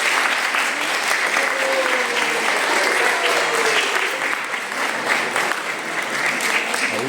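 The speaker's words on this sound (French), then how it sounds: "Et applaudissez encore" Sustained applause from a crowd gathered at a baptism ceremony, steady and continuous clapping filling the room with a faint voice or two murmuring underneath.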